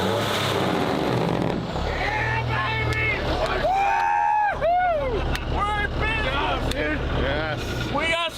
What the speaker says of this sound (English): Some Jake brakes. Hear the noise of that thing.